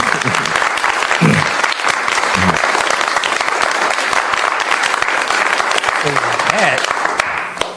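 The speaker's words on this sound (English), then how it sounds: "Well, let's give her applause." A large audience at a Women's History Month gathering applauds continuously and loudly for several seconds, a thick wash of clapping with a voice briefly heard beneath it.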